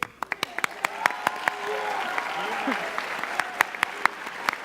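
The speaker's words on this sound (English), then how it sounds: "I want to make sure that you applaud them because they're part of the graduating class too" An audience at a senior awards ceremony applauds the graduating class with steady, moderate crowd clapping. Sharper individual claps stand out over the wash, along with some faint background voices.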